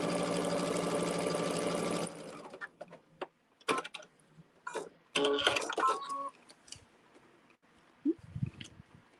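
A sewing machine stitches a quilt block seam in a steady, fast whirring run for about two seconds, then stops, followed by scattered clicks, rustles and brief handling noises close by.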